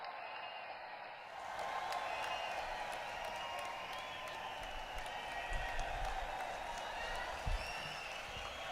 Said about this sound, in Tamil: கரகோஷம் இன்னும் சத்தமாக வேண்டும்